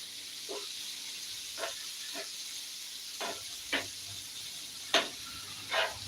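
Mackerel fries in masala in a pan with a steady, faint sizzle, broken by several soft scraping stirs spread through the clip, with no talking.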